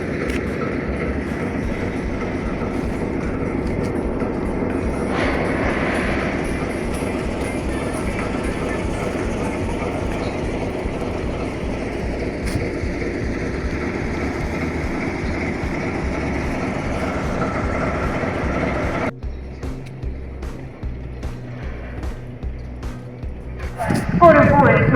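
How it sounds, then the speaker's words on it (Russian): The Moscow–Vladivostok express passenger train rumbles steadily along the rails at close range near Slyudyanka station for most of the clip, then the noise drops off and a heavy engine swells near the end. "Скорый поезд номер 10 с сообщением Москва-Владивосток"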